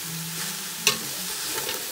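Carrots for bihon being stirred and fried in a pan, a continuous close sizzle with one sharp scrape of the utensil partway through and softer scrapes after it.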